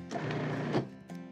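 Two short mechanical bursts of a food processor blade whirring and chopping mushrooms and vegetables, one longer pulse followed by a brief second one, close up.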